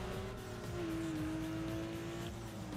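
A Mazda Miata races in a Street Cross event in Need for Speed Underground 2, its steady engine note holding a sustained pitch over game sounds, with tyre squeal.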